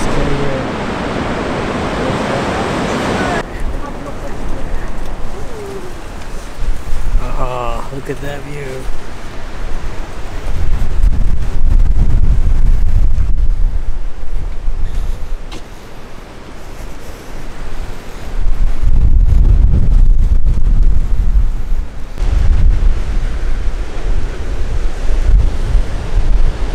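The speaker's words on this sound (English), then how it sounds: "So it's a lot of waves right now." Ocean surf surging against the Punakaiki pancake rocks and blowholes, heavy roaring washes that build and break in powerful bursts amid wind buffeting, with people talking briefly early on.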